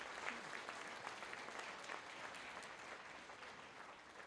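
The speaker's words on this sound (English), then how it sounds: "Let's have a big round of applause for our gadgets and games participants." Audience applause for gadgets and games participants at a state invention awards ceremony, a steady, even wash of many hands clapping throughout, moderately distant and unbroken by talk.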